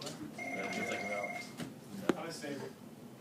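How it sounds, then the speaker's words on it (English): A telephone rings in a classroom during an algebra lesson, its steady bell tone running for about a second and a half under a teacher and students talking. "Can you pick up the phone, Manny?"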